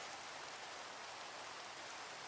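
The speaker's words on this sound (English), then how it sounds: "it is pouring rain, actually." Heavy rain pours in the Minecraft video game, a soft, even hiss of falling water that stays faint and constant, with no voices.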